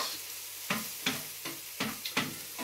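Onions and mushrooms sizzling on high heat in a pan, a soft hiss broken by six quick stirring scrapes at a steady rhythm, close and fairly quiet.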